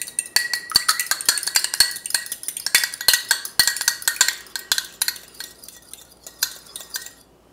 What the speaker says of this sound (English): So now we're going to add our 2 beaten eggs.